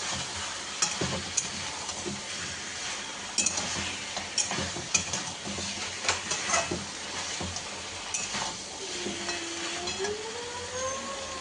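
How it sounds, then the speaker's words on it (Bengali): Pieces of mutton sizzle in a hot pan as hot water is added, with a spoon scraping and clinking against the pan in irregular bursts, close and fairly quiet, with no voices. "আর এই যে গরম জল বসিয়ে রেখেছি, এইটা গরম জলটা দেবো"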